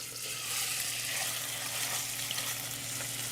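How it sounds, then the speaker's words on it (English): Diced cubes of pork butt sizzle steadily in hot olive oil in a pan, a constant close frying hiss with no talking. "once this gets hot, we're going to add our pork"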